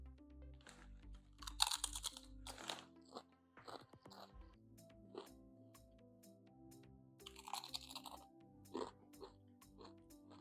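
Quiet, close crunching of crisp onion-cream potato chips in a few short bursts, separated by softer rustling and chewing.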